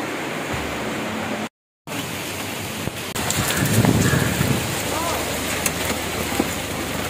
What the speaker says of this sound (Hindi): बाहर बहुत बारिश हो रही है भाई,